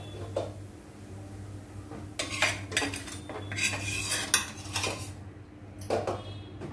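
Roasted spicy puran poli is lifted off a metal griddle with a utensil, making a flurry of close scraping and clinking metal sounds over a low steady hum.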